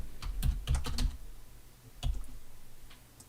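Clicky keystrokes on a computer keyboard, a quick burst of several taps followed by a pause and a couple more presses, close and fairly quiet with no talking.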